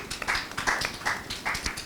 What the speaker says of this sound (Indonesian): tepuk tangan sekali lagi buat kalian super keren ini